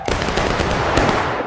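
A rifle volley from a skirmish group in an Old West–style video game, a dense continuous crackle of overlapping shots lasting about a second and a half, loud and close with no pause between reports.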